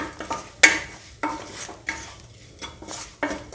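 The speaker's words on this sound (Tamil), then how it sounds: "நல்ல கிளறி விட்டுக்கலாம்" A spoon stirs chili powder masala in a pan for chicken gravy, making a series of close scraping strokes about every half second, with a light sizzle underneath and no talking.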